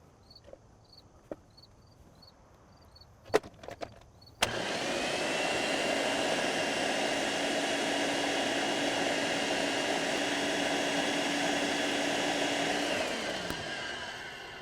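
A kitchen blender whirs steadily at high speed, blending a green marinade with cilantro stems for a pork shoulder, starting abruptly after a few quiet knocks and clicks and running loud and unbroken until it winds down at the end.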